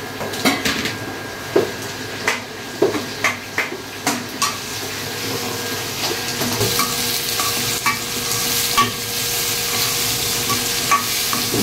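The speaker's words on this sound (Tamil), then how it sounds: "அதுக்கப்புறம் வந்து நம்ம வந்து கட் பண்ணி வச்சுருக்க வெங்காயத்தை போட்டுக்கலாம்." Chopped onions with ginger and garlic fry in a pan, a steady sizzle running under repeated clinks and scrapes of a spoon stirring against the metal, close and fairly loud.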